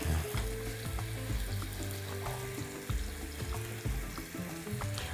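Pineapple slices sizzle in melted butter in a hot pan, a steady close frying hiss with crackles and brief clinks, no talking.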